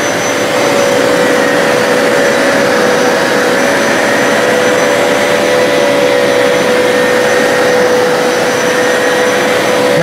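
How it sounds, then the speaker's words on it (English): A Hoover carpet cleaner running in suction-only mode gives a steady, loud, close motor whine and rushing airflow with a constant pitched hum throughout, no voices. "Now I'm doing suction only."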